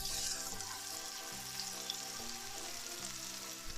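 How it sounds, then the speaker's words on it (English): Food pan frying in a home kitchen, a steady bright sizzle with crackles, accompanied by low humming tones and occasional clinks. "Can you hear that sizzle?"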